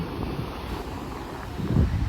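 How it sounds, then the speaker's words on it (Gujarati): Cold wind blows at the seaside in Porbandar, buffeting the microphone in a steady low rumble, with surf beneath it and a louder gust near the end. "અહીંયા પવન પણ એટલો મસ્ત ઠંડો ઠંડો પવન આવે છે"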